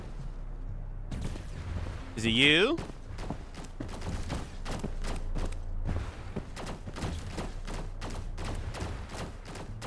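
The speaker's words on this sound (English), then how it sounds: "Something's shooting at me." Gunfire aimed at the player in the video game Titan Isles, a rapid run of sharp shots that repeats through most of the stretch, fairly close and steady, with a voice speaking over part of it.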